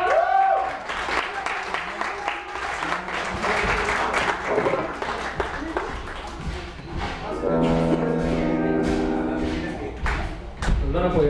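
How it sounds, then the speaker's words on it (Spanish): Audience applause at a village concert in San Pablo Oztotepec, a dense crowd clapping with thumps and shuffling, fading as a voice speaks and music tones enter midway. "aplaudir fuerte."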